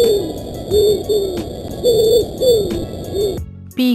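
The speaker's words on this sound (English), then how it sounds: "Pigeon." A pigeon coos in soft, repeated low notes against a faint steady background tone, ending in a brief cut to another short call.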